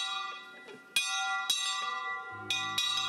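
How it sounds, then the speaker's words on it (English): A church bell rings out in several sharp, resonant strikes, each leaving a long ringing tail, with a lower sustained tone entering near the end; no one speaks over it. "you just need to ring that bell"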